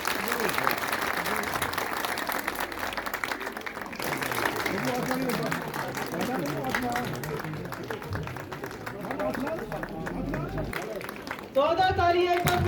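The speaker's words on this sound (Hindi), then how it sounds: "तो तालियां एक बार फिर एक्टिंग सोलो के लिए।" Applause from an audience at a school awards event in India, following a solo acting performance; broad clapping runs steadily throughout under an announcer's voice, with a brief louder burst near the end.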